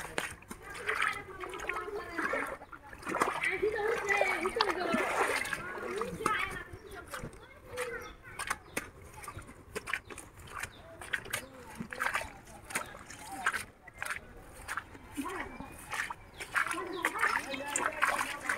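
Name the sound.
floodwater flowing down from the wetland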